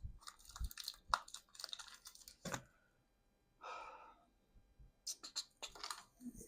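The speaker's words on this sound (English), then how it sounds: "Just got to unwrap it. They put a lot of tape on these things." Tape peeled and crinkled off a replacement Game Boy Advance SP shell, a run of irregular crackling tears and rustles with short pauses, close and fairly quiet.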